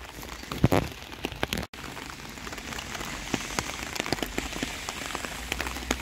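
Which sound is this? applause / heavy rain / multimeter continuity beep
heavy rain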